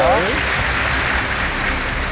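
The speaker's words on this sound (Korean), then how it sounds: "여러분 다시 한 번 뜨거운 박수 부탁드립니다." A studio audience at a televised ssireum (Korean wrestling) match claps in a dense, steady wash for about two seconds, with a brief voice at the very start.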